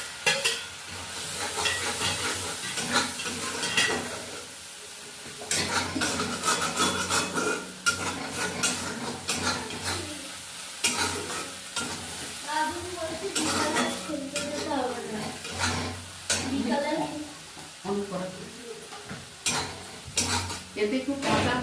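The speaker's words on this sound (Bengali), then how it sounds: "এবারে এই ভাজা উচ্ছেগুলো দিয়ে দেবো।" Fried bitter gourd is stirred into a sizzling spice paste in a village kitchen pan, the spoon scraping and rubbing rhythmically over a constant close sizzle, with occasional metallic knocks.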